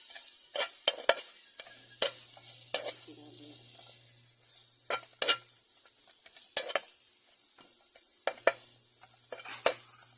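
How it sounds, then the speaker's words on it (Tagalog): Cabbage and pepper sizzle in a frying pan while a utensil stirs, scraping and clacking against the metal in irregular strokes over a steady hiss, close and moderately loud. "Pepper. This is pepper guys. And mix mo yung cabbage guys. Mix mo lang guys."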